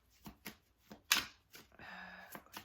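Angel oracle cards are shuffled by hand at close range: a few soft taps and slaps, then a short riffle of cards, quiet and with no one speaking.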